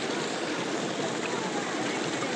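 Small clear river stream at a jungle jeep campsite, its steady broadband rush of flowing water continuous and close, with no clear speech over it.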